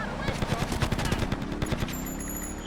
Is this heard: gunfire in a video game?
yes